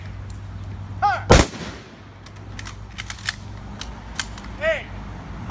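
A color guard fires a ceremonial rifle volley at a street memorialization in Oakland, NJ: one sharp, loud crack stands out, with faint clicks and commands around it.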